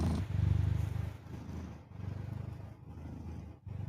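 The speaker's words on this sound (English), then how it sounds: "see if you can hear him purr" A cat purrs close up in a low, rumbling, rhythmic pulse that rises and falls with each breath, steady for several seconds.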